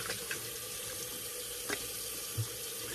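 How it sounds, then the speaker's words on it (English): A water tap runs steadily into a sink as alum is rinsed off after a shave, a continuous close splashing hiss that carries on alone, with a couple of brief clinks. "let me rinse off the alum"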